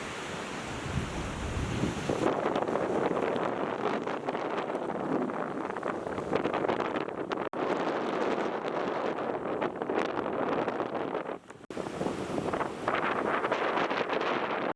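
Wind and surf roar steadily on a deserted Laura Beach in the Marshall Islands, the breaking waves blending with heavy wind buffeting across the microphone, broken only by a couple of brief dropouts.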